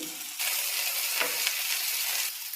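Thinly sliced okra fries in a spoonful of oil in a pan, giving a loud, steady sizzle that starts abruptly, with faint stirring scrapes and no voices.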